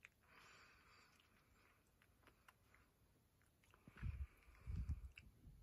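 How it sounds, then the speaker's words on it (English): Pet mouse chewing a small crumb of toast inside a tube, with very faint, close crunchy nibbles and soft clicks that grow into a few louder bursts of chewing near the end. "Here's Jingles enjoying a little crumb of toast this morning."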